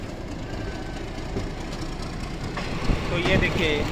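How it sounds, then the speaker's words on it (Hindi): The GT Express train pulling out of Bhopal station, its steady rolling rumble and clatter heard from on board, with a voice talking over it. "भोपाल से हमारी ट्रेन डिपार्चर हो चुकी है, ये देखिए डिपार्चर।"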